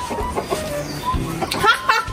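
Village chickens clucking in short, scattered bursts, with one or two sharper calls near the end, over a quiet rural background with a little faint talk.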